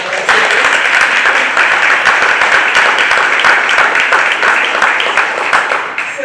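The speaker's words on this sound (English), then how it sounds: "So if you guys can just join me in a round of applause." An audience at a presentation and panel event breaks into sustained applause, dense and loud clapping that holds steady for several seconds and fades slightly at the end.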